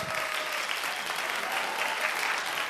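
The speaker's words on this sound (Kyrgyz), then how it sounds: "Бир кол чаап койсоңуздар туугандар." A studio audience gives sustained applause, a dense, even wash of many hands clapping at once, steady and moderately loud throughout, with no talking over it.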